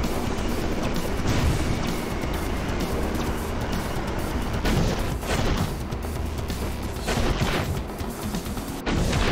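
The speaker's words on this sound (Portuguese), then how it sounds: "Tô atirando aqui com a nave do Zane" Rapid shooting from a flying ship in the LEGO Ninjago Shadow of Ronin game on Android crackles in dense repeated bursts over a steady engine roar, loud and continuous throughout.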